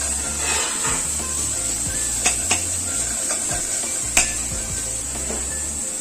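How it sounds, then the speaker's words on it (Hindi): Two tomatoes frying in spiced masala in a pan for a dhaba-style paneer dish, a steady close sizzle with a few sharp spoon scrapes and clinks against the metal as they are stirred. "ये हमने 2 टमाटर डाल दिए हैं। इसे भी हम 3 से 4 मिनट तक भूनेंगे।"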